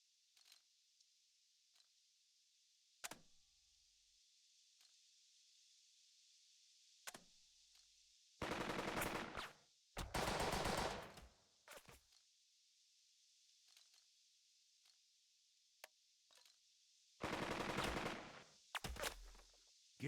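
Machine gun fire from the tactical game Burden of Command, heard as two long, loud rattling bursts with a few shorter cracks and single shots spaced between them over a quiet background.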